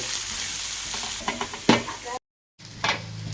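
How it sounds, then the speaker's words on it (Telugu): Green chillies and onions sizzling in a pan of hot oil, a close steady frying hiss with stirring scrapes and clunks, broken by a brief silence. "పచ్చిమిరపకాయలు ఎర్రగడ్డలు వేసి బాగా వేయించుకోవాలి"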